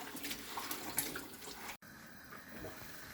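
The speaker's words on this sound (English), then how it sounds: "Our water is boiling," A pot of water boiling on a stove for a simple Greek recipe of boiled greens, giving a steady rushing, bubbling wash with a brief abrupt break midway and no talk.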